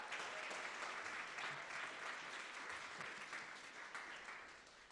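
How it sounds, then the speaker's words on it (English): An audience applauds a speaker at a live in-person meetup, a dense, even wash of clapping that holds steady and fairly soft the whole time, with no voices over it. "So a big round of applause, please, first for Charlotte."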